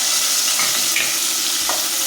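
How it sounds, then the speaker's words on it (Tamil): Steady sizzling of tomatoes sautéing in a hot pan for prawn biryani, a continuous hiss with faint stirring scrapes, no talking. "தக்காளி நல்லா வதங்குது"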